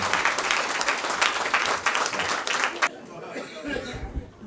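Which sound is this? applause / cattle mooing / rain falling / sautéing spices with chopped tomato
applause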